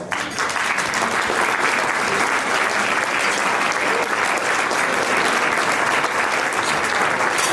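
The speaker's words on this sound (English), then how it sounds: "give them a round of applause" Loud, sustained applause from an audience at a Lincoln Reagan political dinner, with dense clapping filling the room steadily from start to finish and no speech over it.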